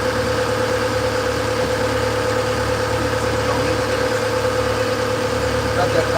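A fishing boat's engine idles while trolling for king salmon, just after the throttle is nudged, producing a steady, loud, droning hum with an even vibrating rumble that holds unchanged throughout.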